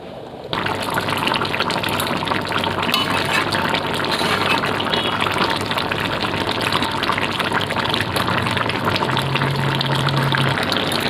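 A pot of cauliflower curry with salted fish boiling hard: a loud, continuous rushing, bubbling roar that starts abruptly and holds steady throughout, with no speech.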